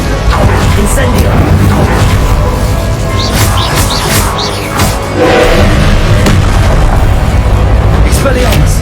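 An Incendio fire spell blast in Hogwarts Legacy amid a spell-casting fight, heard as dense, loud booming and roaring fire with repeated bursts and thuds, and a voice talking over the din.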